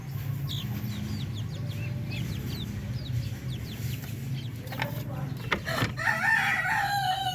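An upgraded native chicken of Orpington stock crows on a farm, a loud rooster call rising near the end over a steady backdrop of other birds chirping and clucking nearby.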